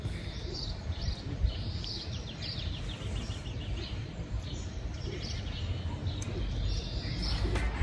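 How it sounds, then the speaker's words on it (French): Birds sing in a quiet, empty park in Angra do Heroísmo, with repeated faint chirps and calls over a soft outdoor background hum. "je vais vous laisser entendre les oiseaux."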